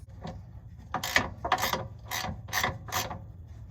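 Ratchet clicking in five short bursts as a sway bar end link is tightened on a 2016 Mazda 3 during rear shock and spring work, close and crisp over a low background hum.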